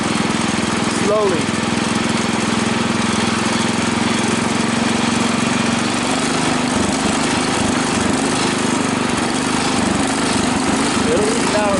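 A Husky 600 small engine runs at reduced throttle, a loud continuous buzzing drone close by that roughens and dips in pitch partway through, with a voice speaking briefly over it.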